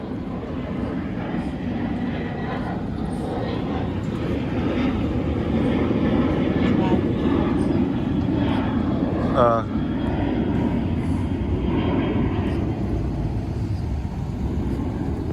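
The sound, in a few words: airplane departing San Diego International Airport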